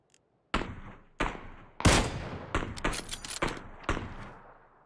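Gunfire in the game PUBG, a handful of separate shots and short bursts spaced out over several seconds, each a sharp crack with a trailing echo, fairly quiet and sounding far off.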